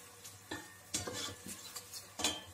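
Quiet scraping and clinking of a utensil stirring onions in a pan, several soft strokes over a faint sizzle.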